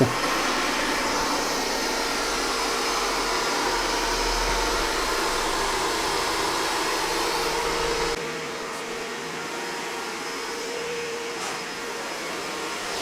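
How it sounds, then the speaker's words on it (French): MOVA P70 Pro Ultra robot vacuum sucking up spilled rice on a floor, a steady high-pitched whirring suction close by that drops to a softer hum partway through. "il a une super aspiration"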